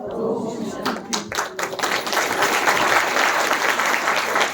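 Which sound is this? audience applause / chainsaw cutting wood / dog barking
audience applause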